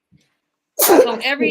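A single sudden, loud sneeze bursts out close by after a brief silence, and a person starts speaking immediately afterward.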